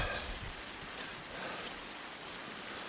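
Rain falling on a residential front and side yard, a steady dense hiss of drops with faint patters, continuous and even throughout, no voices.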